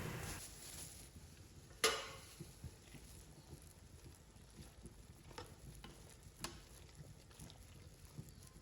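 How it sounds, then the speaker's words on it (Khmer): Banana blossom is tipped into a pot of boiling chicken soup, with one sharp clatter and splash near the start, then a faint, continuous bubbling simmer with small scattered ticks. "ឥឡូវនេះយើងចាប់ផ្ដើមបង់បន្លែ បន្លែគឺត្រយូងចេកតែម្ដងបាទគឺយើងបង់ទាំងអស់តែម្ដង"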